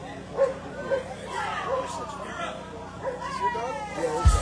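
Dog named Angus at an outdoor music festival, giving several short yips and barks spaced through the clip amid crowd chatter and nearby voices.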